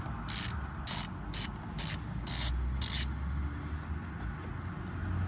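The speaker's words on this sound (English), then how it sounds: "start unscrewing it just like that" A ratchet wrench fitted with a T30 bit backs out a bolt on a Seat Ibiza, with six quick bursts of rapid clicking at an even pace over a low mechanical hum, close and clear.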